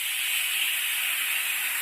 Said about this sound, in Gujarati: બે સીટી પડી ગઈ છે કુકર નીચે ઉતારી દીધું છે